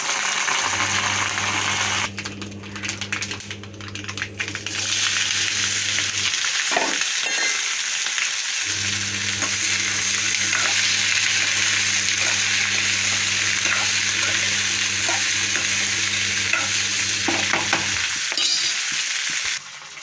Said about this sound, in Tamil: கோவக்காய் தோரம் செஞ்சிட்ருக்கேன்.